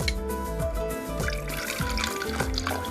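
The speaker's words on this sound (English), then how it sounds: "I'm gonna pour out 1 glass worth of soya milk." Soya milk pours into a glass in a continuous close trickle with a rising, gurgling fill tone that shifts in pitch as the glass fills.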